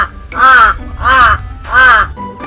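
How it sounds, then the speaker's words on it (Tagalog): A crow caws loudly three times in steady succession, harsh and close, in the morning, each call drawn out and evenly spaced. "Tuwing umaga, humuhuni ng malakas si Wak para tawagin si Erben."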